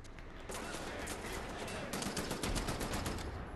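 Sustained rapid gunfire in the video game Wolfenstein: The New Order, a dense rattling stream of shots that grows heavier partway through, steady and continuous without talk.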